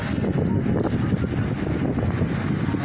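Steady, heavy wind rumbling and buffeting close to the microphone, a continuous low roar with no pauses.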